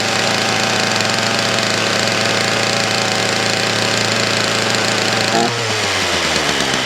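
A Mountfield petrol strimmer's small two-stroke engine runs loud and close at a fast, buzzing, steady idle while warming up with the choke on. Near the end the pitch drops as the revs fall away.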